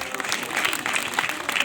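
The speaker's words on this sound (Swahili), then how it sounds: "Wapi makofi yake?" A school gathering gives a short burst of crowd applause for a speaker, a dense patter of clapping that stays close and even across the brief moment.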